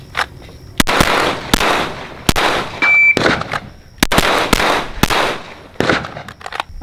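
Sharp, loud gunshots ring out at a shooting range drill, firing in quick paired and single bursts with brief pauses between strings, each crack close and echoing.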